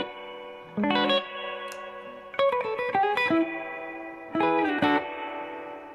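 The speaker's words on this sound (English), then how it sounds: "this is what it sounds like at about halfway." An electric guitar played through the clean channel of a Peavey Valve King 112 valve amp with its spring reverb at about halfway, giving a few strummed and picked phrases whose tails ring and wash out between bursts.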